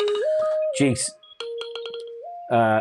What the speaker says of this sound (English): sorry, my phone's going